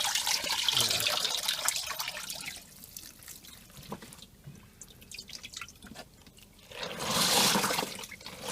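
Water drips and trickles as a wet towel is wrung out into a portable twin-tub washing machine, soft splashing bursts at the start and end with quieter dribbles between.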